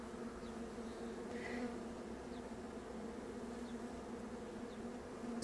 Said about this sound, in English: There's 2 bees there having a drink.